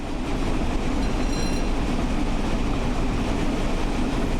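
The Flying Scotsman steam locomotive runs at about 86 mph, a loud constant rolling roar of wheels and motion with a brief faint squeal early on, no speech.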